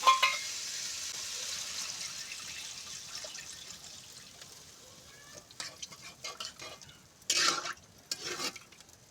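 Water is poured into a pan of sautéed green banana, giving a broad hissing sizzle that fades into quieter simmering, followed by a few short stirring and clattering bursts near the end, with no talk.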